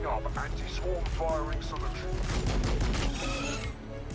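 Rapid weapon fire in the strategy game Warhammer 40K Battlesector, bursts of shots crackling under someone talking over them.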